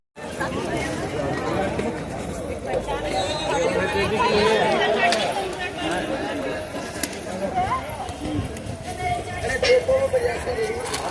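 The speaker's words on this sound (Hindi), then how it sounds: "बहुत भीड़ है मंडी में," Dense crowd chatter fills the busy Okhla vegetable and fruit market, many overlapping voices and bustle around a nearby speaker talking throughout.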